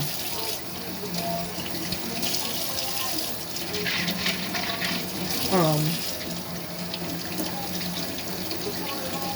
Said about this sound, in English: So I just wash it in the sink